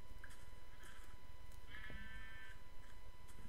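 Gray sheep in Minecraft giving a couple of short bleats over a steady background hum, fairly faint and without speech.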